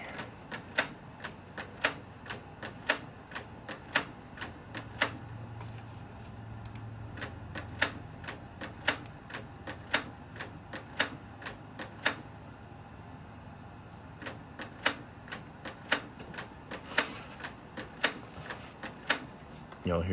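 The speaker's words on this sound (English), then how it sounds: "Y'all hear my printer going off over there?" A printer running nearby, with irregular sharp mechanical clicks and ticks over a low steady hum, fairly quiet throughout.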